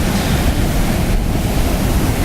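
Rough sea waves break and wash onto a Cape Verde beach in dangerous red-flag conditions, a loud continuous roar of surf mixed with wind buffeting the microphone.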